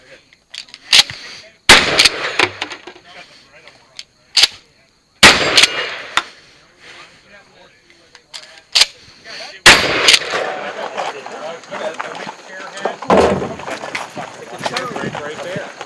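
Shotgun blasts at an outdoor caboose-run shooting event, loud sharp reports spaced irregularly with a few close together, each followed by a brief decay, while people shout and talk in between.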